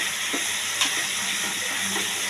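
Pointed gourd (potol) pieces for dolma fry in an oily gravy in a pan, giving a continuous close sizzle and crackle with soft stirring sounds.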